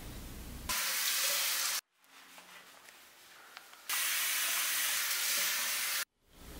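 Water from a tap at a salon basin during a man's hair wash, rushing in two loud, steady sprays of about a second and two seconds, separated by a quieter stretch.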